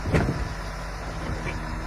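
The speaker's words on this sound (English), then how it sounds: "The V8 engine roars to life once more, echoing, deep, and full of power" Scania V8 R660 logging truck engine running in a damp forest yard, a deep steady low rumble close by with a short knock near the start, no talk.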